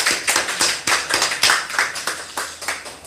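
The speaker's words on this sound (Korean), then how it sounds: "박수해 주시죠." A church congregation claps to welcome a guest at a worship service, close and fairly loud, the claps coming in uneven bursts with sharp individual hand strikes rising and falling in quick clusters, and no talking.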